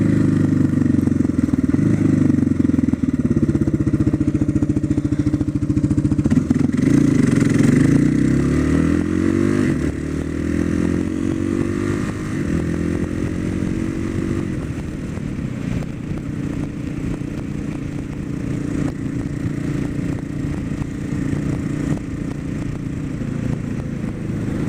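A motorcycle engine heard close up while riding, a steady mechanical drone with rising and falling revs through gear changes, continuous and fairly loud, without talk.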